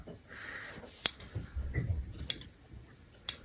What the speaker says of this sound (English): So I am going to trim this off